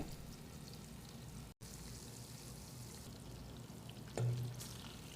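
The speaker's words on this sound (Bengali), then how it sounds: "তেল গরম হয়ে গেছে এই যে মাছ দিয়ে দিতেছি" Pangas fish fries in hot oil with a steady, faint sizzle and a brief louder splash near the end.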